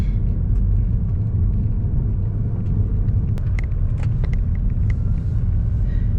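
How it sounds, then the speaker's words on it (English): Inside a car driving through Siesta Key neighborhoods in Sarasota, Florida, a steady loud low road rumble fills the cabin, with faint scattered clicks and ticks above it and no talk. "I'm going to drive into some of the neighborhoods here."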